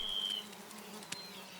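Insects buzzing around a waterbuck carcass as dung beetles arrive at the kill: a steady, faint insect hum and drone carrying through the whole stretch, with one sharp brief tick partway through.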